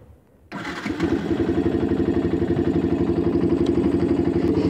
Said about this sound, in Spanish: su sonido de motor a bajas revoluciones